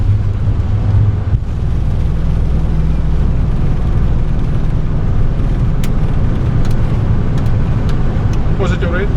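A Boeing 747-8 jet takes off from LAX, its engines producing a loud, steady, broadband roar that fills the whole stretch without letup.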